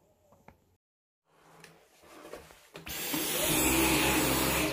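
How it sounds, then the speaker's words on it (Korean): A Dyson V10 cordless vacuum cleaner starts up with some clicks and handling noise, then runs as a loud, steady, close-up whine and roar for the last couple of seconds. "이렇게 청소기를 쓰다 보면은 아무래도 어, 한 달에 한 번은 필터를 청소해줘야지 다이슨 청소기가 오래 갑니다."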